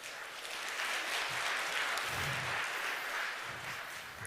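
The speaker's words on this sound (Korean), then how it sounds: "뜨거운 박수로 동의를 표해 주시면" Members at a general meeting of a redevelopment association clap together in agreement, a continuous, fairly even roar of applause lasting several seconds with no speech.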